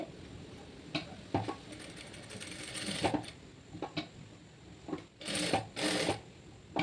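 A sewing machine stitches a seam in short bursts, its needle chattering rapidly for a few seconds at a time between pauses, close and fairly quiet.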